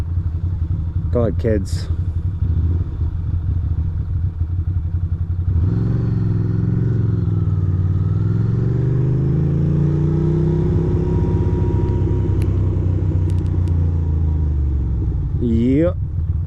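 A Ducati motorcycle engine is blipped with the throttle in a city street, a deep rumbling rev that swells and holds for several seconds over steady traffic background, with a brief spoken phrase early on.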